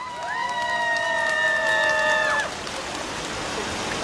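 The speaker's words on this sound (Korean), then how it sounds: "우리 김동윤 청년본부장님께 다시 한번 큰 박수 부탁드리겠습니다" An audience at a political campaign rally claps in a soft, diffuse patter that runs throughout, partly covered at first by a loud sustained electronic tone that cuts off midway, after which the applause continues alone.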